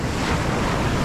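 Large ocean waves crash against the shore in a loud, dense roar mixed with wind buffeting the microphone.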